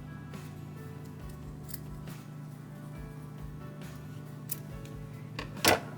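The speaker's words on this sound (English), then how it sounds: "I'm going to snip that right about here, and I will snip it at an angle." Scissors make a single crisp snip through ribbon for a bow, cut at an angle, heard near and alone late in a quiet room after a few soft faint ticks.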